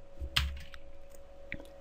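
Keyboard key presses, a few soft clicks spaced irregularly over a faint steady hum, close and quiet.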